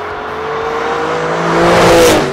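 An Alfa Romeo Stelvio Quadrifoglio SUV with 510 hp, in its most dynamic drive mode, is pushed hard on a curvy road. Its engine note rises loud and close, swelling toward a peak before easing off.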